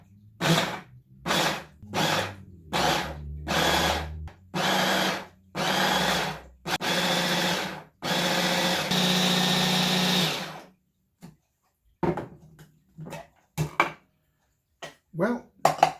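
A kitchen appliance mincing food runs in about eight loud, close bursts, each a few seconds of whirring motor. Faint clatter and rustling follow in the quieter stretch afterward.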